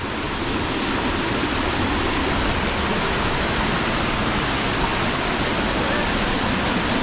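Steady, loud roar of a large waterfall heard close by, a dense continuous rush of falling water with no break and no voices.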